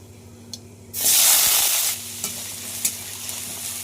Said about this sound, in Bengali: যে সবজিগুলো একটু ভাজতে বেশি সময় লাগবে সেগুলো আগে দিয়ে ভেজে নেব